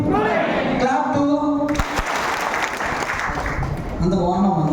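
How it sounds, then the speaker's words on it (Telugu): An audience at a training session breaks into a burst of dense clapping right after a harmonic spoken voice, and the applause stays loud and close for several seconds before talk resumes. "క్లాప్ 2."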